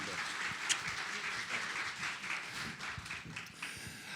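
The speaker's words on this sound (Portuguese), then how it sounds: "Por favor, aplauda a Prudence." Steady applause from an audience at a launch event in São Paulo, moderately distant and even, with no pauses for the full length.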